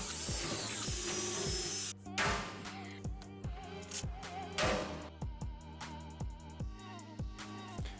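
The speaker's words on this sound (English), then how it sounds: "it's just a question of drilling and riveting each of the holes" Power drill bores through the panel of a Land Rover Defender while fitting a side locker, mixed with sharp repeated rivet-gun snaps: a steady whine at first, then a rapid, irregular run of close, loud clicks and bursts.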